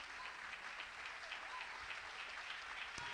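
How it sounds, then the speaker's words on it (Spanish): A church congregation applauds during a Spanish-language worship service, a steady wash of clapping heard at a distance, continuous and fairly faint throughout. "dan un aplauso al Señor"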